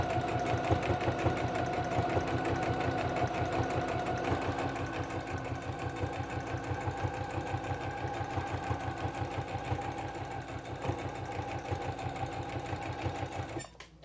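A sewing machine runs a continuous stitch along the top edge of an apron, its needle pulsing in a fast, even rhythm close by until it stops at the end.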